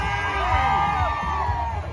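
A loud crowd lining a civic parade in Pasig City cheers and whoops in a dense, continuous roar, with shouts rising and falling throughout.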